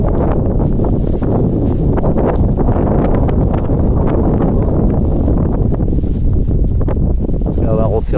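Wind buffets the microphone with continuous low rumble near the head of the Durance river, steady and loud throughout.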